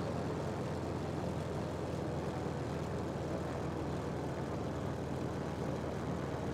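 Simulated F4F-4 Wildcat fighter in Microsoft Flight Simulator drones steadily with a damaged propeller and the throttle pulled back, a continuous muffled engine and wind rumble heard from the cockpit.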